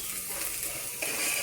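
Garlic and onion frying in a pan for a drumstick-leaf bassaru, a steady close sizzle with light stirring that grows slightly louder near the end, no voices.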